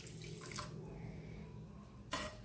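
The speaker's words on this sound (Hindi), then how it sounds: "और आधी कटोरी से भी कम इसमें पानी डाल देंगे" Water splashes faintly into a pan of sugar on a gas stove to start a one-string sugar syrup for a Janmashtami sweet. The trickle is soft and steady, with a brief brighter splash near the end.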